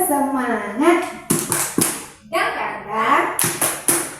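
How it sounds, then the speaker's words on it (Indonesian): A group performs the rhythmic 'tepuk semangat' clapping routine, with sharp, loud bursts of hand claps in patterned clusters between stretches of chanted voices, close and lively. "Yuk, kita tepuk semangat ya."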